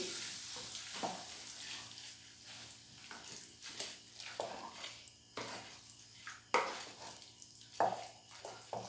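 A spoon stirs jackfruit curry mixed with roasted coconut in a pan, scraping and clinking irregularly against the metal over a soft sizzle, close and moderately quiet with no voices.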